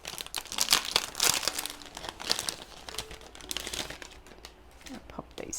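Thick card baseboards being handled and flexed, giving repeated crinkly crackles and rustles, close and fairly loud, with a voice talking through much of it.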